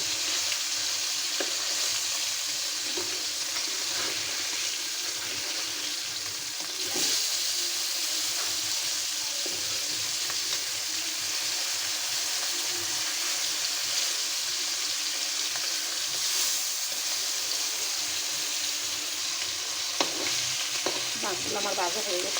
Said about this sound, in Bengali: কড়াইটাতে আমি এক এক করে অনেকগুলো মাছ ভাজতে পারি।